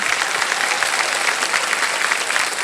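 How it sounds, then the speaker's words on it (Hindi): Dense, steady studio audience applause on a televised quiz show set, many hands clapping evenly for the whole stretch with no voices over it. "तो इसके लिए भी हम आपके लिए ताली बजवा देंगे"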